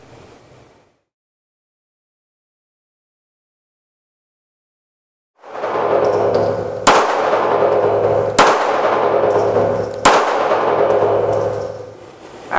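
Handgun shots fired at a shooting range, four sharp, loud reports evenly spaced about every one and a half seconds, each ringing out over a steady roar, after a long stretch of near silence.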